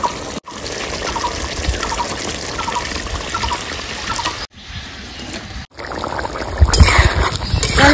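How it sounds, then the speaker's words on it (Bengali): Water poured into a cooking pan holding ridge gourd and potato for a fish curry, a steady trickling pour that runs for several seconds with brief breaks, close and fairly loud. "আমি একদম অল্প জল দেবো"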